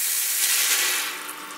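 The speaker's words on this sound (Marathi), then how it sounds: "तर आता आपण ह्याच्यामध्ये घालणार आहोत पाणी।" Water pours into a cooking pan holding browned garlic for a traditional horse gram porridge, making a steady, loud broadband rush that eases off slightly toward the end, with no talking.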